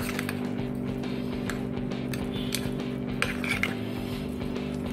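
Spoon clinking and scraping against a bowl while herbs and seasonings are mixed into butter for garlic bread, a steady run of light metallic taps with a few sharper clinks, close and alone.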